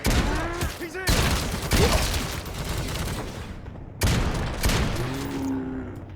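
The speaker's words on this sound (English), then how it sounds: "This shotgun completes your starting trio and does what you expect. It's punchy, sounds great with a pacey rate of fire for a pump action" Pump-action shotgun blasts from the Necromunda: Hired Gun video game, fired at a brisk pace: heavy, punchy reports with rolling tails, a couple of sharp onsets standing out, set among dense game effects and ambience.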